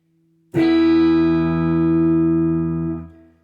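A single sustained chord on an AIO W400 electric guitar with neck and bridge pickups together, full and rich with a clean, ringing tone, rising suddenly and holding steady for about two and a half seconds before fading.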